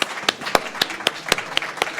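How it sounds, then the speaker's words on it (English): Scattered applause from the audience at a COP26 report launch in Glasgow, a few distinct claps in a light, uneven rhythm. "a big round of applause for our speakers"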